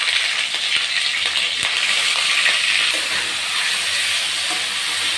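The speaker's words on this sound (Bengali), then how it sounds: "পেঁয়াজটাকে একটু হালকা করে ভেজে নেব।" Onion paste sizzles and fries steadily in hot oil in a pan, a continuous close hiss with faint crackles throughout, no voices.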